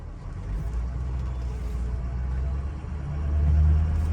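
A 2003 Ford Excursion with a 6.0L Powerstroke diesel drives along, a steady low cabin rumble that swells slightly near the end, with no talking.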